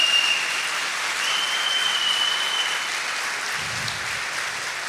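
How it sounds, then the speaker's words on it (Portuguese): A Catholic congregation at a Sunday Mass applauds in a steady, moderately loud wash of clapping that holds evenly throughout, with a faint low rumble near the end. "Dê uma salva de palmas para Ele"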